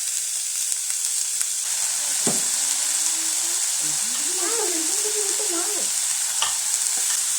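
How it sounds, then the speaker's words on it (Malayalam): Chopped onions with garlic, ginger and a little salt sautéing in a pan, a loud steady sizzle with spoon scrapes and taps, while someone talks over it in the middle of the stretch. "സവാള നല്ലപോലെ ഇളക്കി കൊടുക്കണം."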